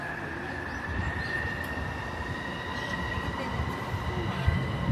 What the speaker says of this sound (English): And this is the train.